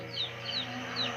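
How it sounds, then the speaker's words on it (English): Chicken clucking in an Easter horror game, three short rising squawks spaced evenly over a low hum, fairly faint. "Did a chicken just come out of her hand?"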